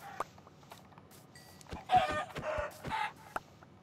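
Chickens clucking in the video game Minecraft, a few short close clucks and squawks in quick succession, fairly quiet and without talk.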